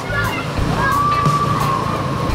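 Flood water sloshes and churns steadily as a motorcycle rides through a flooded road, a loud continuous rush of water with the engine's low hum underneath and no break in the spray.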